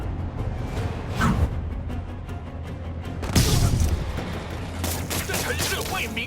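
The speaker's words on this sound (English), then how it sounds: "Control, rooftop outpost under fire from demons." Gunfire at a rooftop outpost under demon attack in Marvel's Spider-Man, with bursts of shots and booms, a loud cluster near one second, a heavier volley around three and a half seconds and more firing toward the end.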